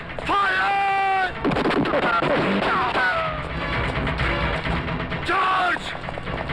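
Gunfire erupts after a shouted order in a 1998 Hindi action film, heavy shots and explosive bursts layered over loud shouting voices and dramatic music, continuous and close.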